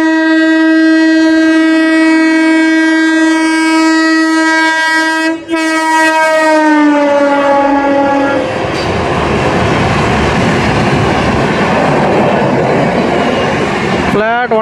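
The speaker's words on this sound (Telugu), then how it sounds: "వస్తుందండి విక్రమసింహపూర్ ఇంటర్సిటీ ఎక్స్ప్రెస్ అయితే" The Vikrama Simhapuri Intercity Express sounds a long, loud, sustained horn as it comes up to the station, then thunders past at speed with a dense roar and rattle that fills the rest of the stretch.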